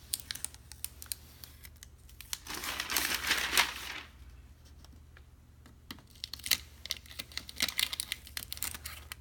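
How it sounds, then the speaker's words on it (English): Tape peels off the edge of a Corvette grille in close, crinkly rips and crackles, a longer tearing stretch followed by quieter ticks and short crinkling bursts. "remove the tape on the edge"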